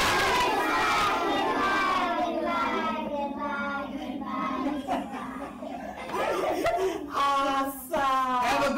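Group of children shouting a lively cheer together, loud and excited, with overlapping voices and laughter swelling and dipping in a school board meeting room.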